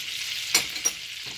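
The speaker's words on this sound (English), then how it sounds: "We're going to give it a good baste one more time." Pork chop pan-searing in a pan with a steady sizzle of hot fat, broken by two short, sharper splashes as butter is spooned over the meat, close and fairly loud.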